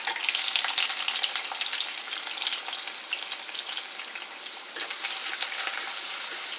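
Chopped onion and pepper sautéing in hot vegetable oil, a dense, bright, continuous sizzle with fine crackling throughout, close up and fairly loud, with no speech.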